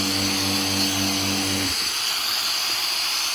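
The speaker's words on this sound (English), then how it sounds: "Release the vacuum again." A vacuum chamber being released while stabilising wood with resin for knife scales: a low motor hum runs, then cuts off abruptly, leaving a steady, loud hiss of rushing air.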